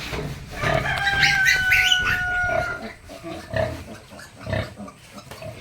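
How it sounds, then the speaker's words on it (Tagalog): A sow grunts in low, repeated pulses while piglets squeal faintly; a high, drawn-out bird call rises briefly in the background. "papadede na si Yan"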